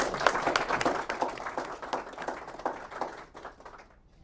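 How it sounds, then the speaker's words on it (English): An audience applauds the Deputy Governor, Sharon Kozicki, after her speech: dense, steady clapping from a sizeable crowd that holds for about three seconds, then thins and fades out. "Another round of applause for the Deputy Governor"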